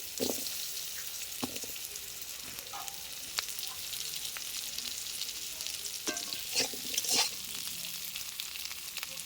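Potatoes fry in a pan with a steady close sizzle, the first ingredient added to a vegetable dish seasoned with panch phoron and green chilies, with occasional stirring clinks and scrapes throughout.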